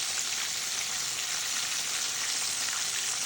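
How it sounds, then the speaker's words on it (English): A chicken leg frying in hot oil gives a steady, dense crackling sizzle, close and even throughout, with no voices. "You're not done fry it, you want to fry some more"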